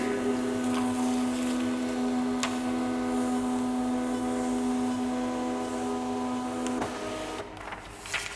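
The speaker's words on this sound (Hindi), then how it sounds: "ये प्रिंट निकलना शुरू हो गया इसका, ये देखें।" An ECG machine prints out its paper trace with a steady, close mechanical whir and hum of the printer motor, running continuously for several seconds before easing off near the end.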